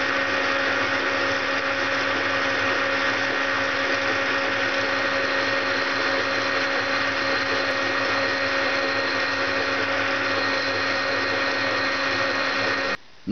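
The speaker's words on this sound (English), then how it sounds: "Give it a nice little chamfer with my boring bar." A lathe runs with a loud, steady motor hum and high whine as a boring bar cuts a chamfer in a bushing, unbroken for the whole stretch before stopping abruptly.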